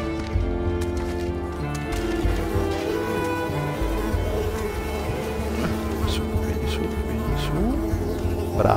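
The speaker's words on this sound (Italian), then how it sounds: "Maledette zanzare." Mosquitoes whine in a video game, a steady thin buzzing hum running throughout beside footsteps and other game sounds, with a voice talking briefly.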